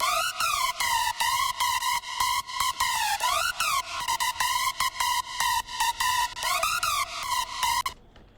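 A bright, buzzy trap-style synth lead in a hybrid trap tearout track plays a fast, chopped melody of pulsing notes with pitch swoops, loud and up front, then cuts off abruptly.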